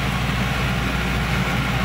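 Engine of a self-loading concrete mixer truck running steadily, a loud continuous low rumble with a constant idle-like drone and no pauses.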